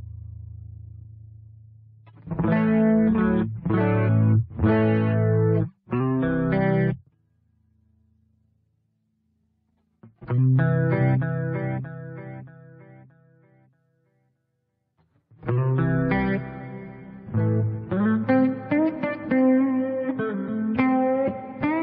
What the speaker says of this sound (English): You get a chorus on and off, delay on and off, and a reverb on and off.